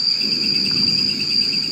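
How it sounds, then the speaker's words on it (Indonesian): Crickets chirping at night in a forest, a loud continuous high-pitched trill that holds steady throughout with no gaps, close and dominant, with no speech. "Jangkrik bang. Jangkrik."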